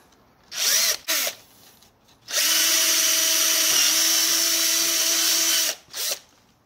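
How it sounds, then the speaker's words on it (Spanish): A power drill bores a hole for fitting a Garmin Striker GPS transducer on a three-metre inflatable boat: two short trigger bursts, then one steady loud whine lasting about three seconds, close by. "Y el otro, voy a hacer este agujero."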